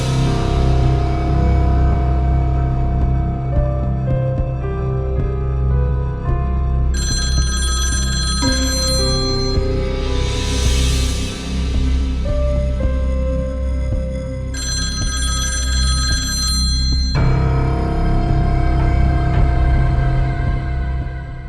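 A telephone rings repeatedly at a steady pulse over music and background sound in an indoor domestic drama scene, loud and continuous throughout.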